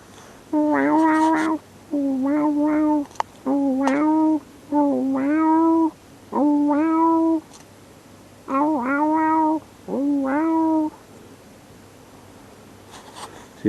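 A person imitates a cat, giving seven drawn-out meows in a row with short pauses between them, loud and close.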